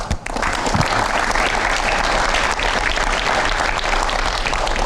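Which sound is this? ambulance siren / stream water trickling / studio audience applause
studio audience applause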